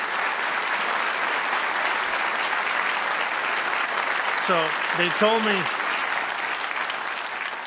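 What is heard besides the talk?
audience round of applause at military induction ceremony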